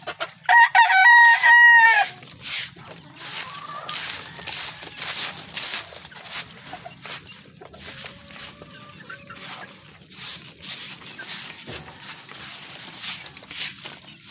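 A breeding rooster crows loudly once near the start, followed by scattered clucking from hens and rustling footsteps around a farmyard pen.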